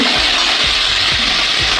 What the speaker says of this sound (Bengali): আলু টমেটোটাকে ভালো করে ভেজে নিচ্ছি বন্ধুরা